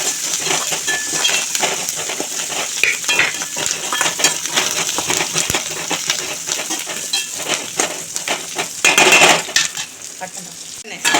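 Continuous sizzling and frying of whole small onions with frequent scraping and stirring in a pan, loud and close, no voices.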